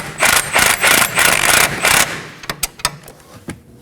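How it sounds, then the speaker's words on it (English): An 18mm socket on a ratchet snugs a bolt on a camber kit for a 2016-2020 Kia Sorento, starting with several loud, rhythmic ratcheting bursts and then a few sharp, isolated metallic clicks and knocks close up, with no talking. "Using a 21mm wrench, we're gonna hold the knot in place. And using an 18mm socket,"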